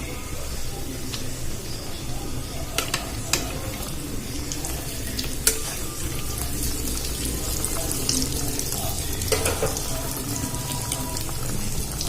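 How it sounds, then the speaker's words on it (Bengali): Dhoka lentil cakes frying in oil give a steady, close hiss of sizzling that runs unbroken throughout, with a few faint clicks and taps over it. "আমি এগুলো এবার ভালো করে ভেজে নেব"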